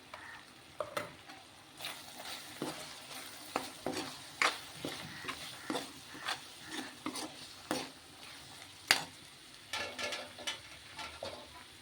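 Spices and chili powder frying in a pan with a steady sizzle, punctuated by a regular rhythm of spatula scrapes and stirring clicks roughly every half second, close and without speech.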